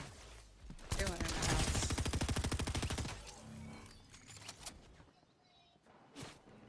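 Rapid gunfire from a DMR rifle in Fortnite, a dense burst of repeated shots lasting a couple of seconds, then scattered fainter shots and game effects, with players talking over the fight.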